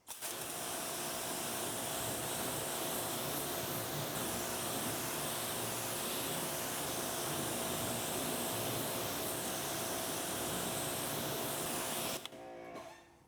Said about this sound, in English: Now we do our first rinse.